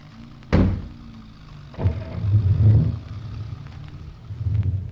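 A car door slams shut, followed by an engine starting up and a vehicle pulling away, staged as a sound effect in a radio drama; the thump is sharp and near, and the low engine rumble swells and rolls on steadily.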